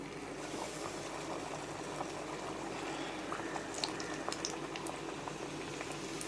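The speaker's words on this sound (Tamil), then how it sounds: "ஒரு சட்டியில் வடைச்சட்டியில் எண்ணெய் ஊற்றி வச்சுருக்கேன்" Puri fries in hot oil in a vada pan, giving a dense, steady sizzling and bubbling hiss with small crackles. The sound is close and continuous at moderate volume, with no speech.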